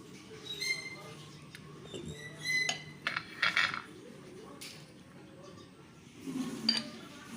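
A spoon clinks faintly against metal idli moulds as rava idli batter is spooned in, a few scattered light taps and scrapes in a quiet kitchen.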